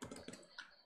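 Quiet, rapid clicking of keys on a computer keyboard, a short run of several close keystrokes with no talking.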